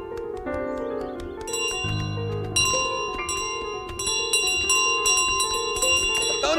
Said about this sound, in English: We get the Golden Bell